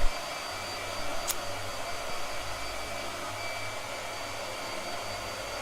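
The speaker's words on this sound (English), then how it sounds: "Blow dryer." A blow dryer runs steadily while someone paints, a loud, constant whooshing roar heard on its own without talk.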